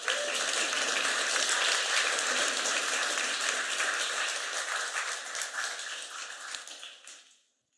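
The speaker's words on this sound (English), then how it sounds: "Round of applause for Donna." A room at a school district board meeting breaks into steady, full applause that holds for several seconds, then tapers and cuts off into silence.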